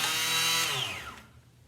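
A power saw whines loudly as it cuts through zinc stock for a sculpture frame, then spins down with a falling pitch and fades out over about a second.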